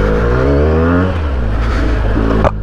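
An inline two-cylinder fuel-injected superbike engine revs loudly and close, its tone rising steadily then falling back and climbing again near the end, heard alone without talking.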